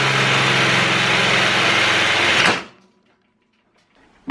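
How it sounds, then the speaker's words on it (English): A power drill bores through thick metal on a motorcycle lift, giving a loud, continuous whining grind. It stops abruptly after about two and a half seconds, leaving near silence. "and we'll just drill straight"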